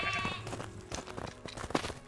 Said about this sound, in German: So, da ist das nächste Schaf.